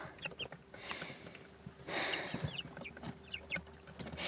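Chicks cluck softly and repeatedly close by in a small mini-enclosure, with scattered bird chirps and a steady background hum, no talking.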